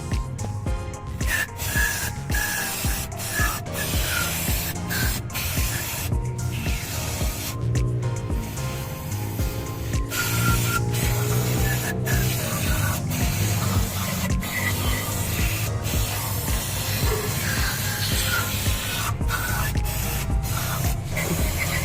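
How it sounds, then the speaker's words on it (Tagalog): Repeated short bursts of aerosol cleaner sprayed onto the engine solenoid of a Suzuki DR17V, sharp hissing squirts at irregular intervals over a low running engine and workshop background, with no talk. "Sabayan na lang natin yung pag-spray ng kanyang solenoid para malinis."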